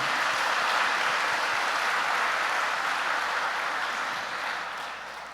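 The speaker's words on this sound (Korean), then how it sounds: "우리 다시 한번 박수 한번 보내주시기 바랍니다" A church congregation gives a steady round of applause after a sung performance, a soft dense patter of many hands that holds level and then slowly fades toward the end.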